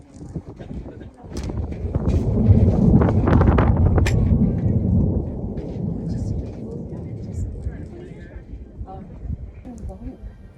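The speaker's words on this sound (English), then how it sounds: "Crazy eruption. It sounds like thunder up here." Deep rumbling of an erupting Acatenango volcano heard from high on its slopes at 3,750 metres, a loud sustained roar like thunder swelling early then fading, with wind buffeting the microphone and faint voices.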